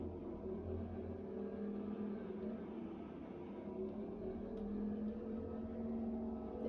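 An Isard CB750 vehicle in the Farming Simulator game drives fast, a steady droning engine hum with a gradually rising pitch, faint and continuous with no talk.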